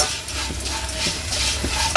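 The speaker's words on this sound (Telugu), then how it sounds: "అటుకులు వేస్తున్నానండి. అదే నెయ్యిలో మంచిగా వేయించుకోవాలి మనం." Flattened rice (poha) fries in ghee in a pan, giving a soft, continuous sizzle under light scraping and stirring, close and moderately loud, with no talking.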